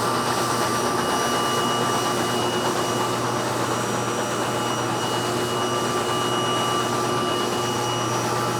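A Revel 2402 T DTF printer runs with a steady, even mechanical whir and hum that holds constant throughout, with no voices.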